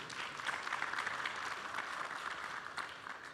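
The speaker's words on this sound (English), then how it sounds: "please join me in a final round of applause for all our speakers" Moderate round of audience applause in a plenary hall at a food safety conference, a soft, steady patter of many hands heard from a distance after a panel discussion.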